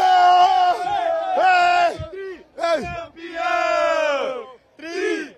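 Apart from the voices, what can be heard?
crowd shouting a champions' cheer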